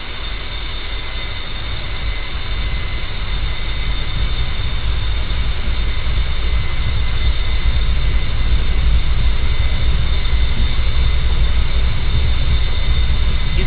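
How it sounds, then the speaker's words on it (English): A-10C jet engines in the DCS combat flight simulator spool up toward full throttle, a steady, loud, unbroken turbine roar with a high whine that holds and swells slightly, heard alone without talk. "Let's go ahead, spool things up, get the landing lights going"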